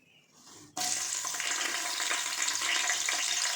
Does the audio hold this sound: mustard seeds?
yes